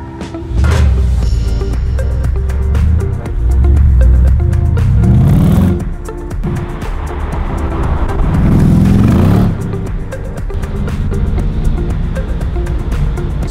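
Mercedes C63 Black Series engine heard from inside while driving, a loud deep rumble that rises through repeated gear pulls, with upshift breaks and quieter cruising between bursts, with no voices.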